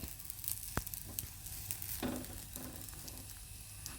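Pieces of jackfruit coated in flattened rice frying in hot oil as they are flipped, a quiet steady sizzle with a sharp clack near the start and brief bursts of crackle midway, close and without voices.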